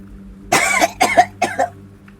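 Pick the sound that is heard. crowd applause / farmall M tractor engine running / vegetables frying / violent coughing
violent coughing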